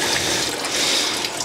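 Coolant drains from a BMW radiator in a continuous splashing, hissing stream of liquid, heard close and steady with no talk.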